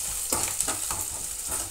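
Green chillies dropped into a hot pan of oil splutter and crackle close up, with sharp popping bursts over a steady sizzle and no talking.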